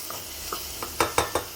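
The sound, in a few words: chicken and sausage browning in a pot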